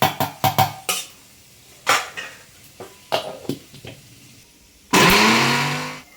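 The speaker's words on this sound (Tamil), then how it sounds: "இது நல்லா நைஸாக பேஸ்ட் மாதிரி அரைச்சி எடுத்துக்கோங்க" A mixer grinder blending cooled sautéed onion into a fine paste for a spicy brinjal curry, preceded by sharp clinks of items dropped into the steel jar, then one loud whirring burst of the motor that slowly fades.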